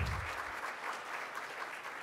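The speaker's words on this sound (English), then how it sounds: "Please give them a round of applause." Audience at a Rotary Club of Tulsa luncheon applauds visiting Rotarians and their guests, a steady wash of many hands clapping throughout, moderately distant and fairly quiet.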